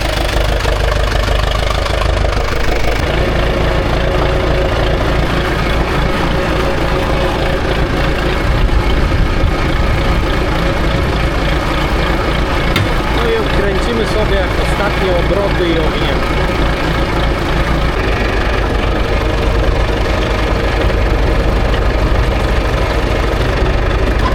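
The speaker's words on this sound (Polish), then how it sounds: "Tu już traktora odpaliłem" A farm tractor engine idles steadily on a rural field, a loud, continuous low rumble with a faint knocking texture, close by, while someone talks over it.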